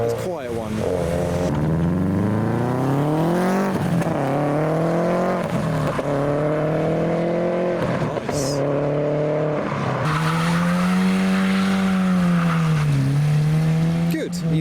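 A modified Honda Civic FN2 pulling away from a car show in heavy rain, its engine note rising and falling steadily through the gears, fairly loud and close, with a voice talking over it.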